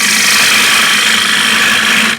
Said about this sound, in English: Now what I'm doing here is a scraping cut with the right wing of the gouge